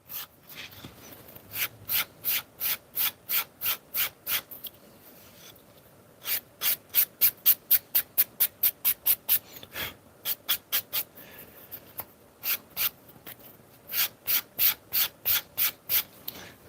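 Rapid rhythmic strokes of a heavily worn 120 grit nail file rubbing along a leather edge, in repeated bursts of quick scraping passes with short pauses, close and clear.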